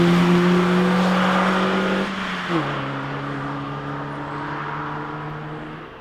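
A Honda with a VTEC engine and cold air intake revs up loudly with strong induction noise, then the engine note drops and settles into a steady lower drone, close and alone.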